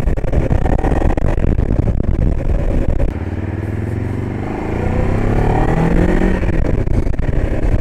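A 2025 Moto Morini X-Cape 700 adventure motorcycle engine revs hard and loud up close, dropping briefly to a steadier idle before climbing again through rising, falling revs.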